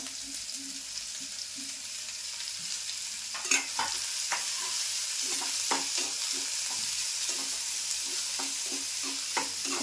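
Finely chopped onion frying in hot oil as the first step of a Malvani-style dried baby shrimp dish, a continuous sizzle with repeated clinking, scraping stirs through most of the stretch, close and with nobody speaking.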